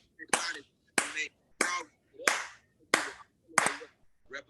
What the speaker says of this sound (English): I need everybody clapping.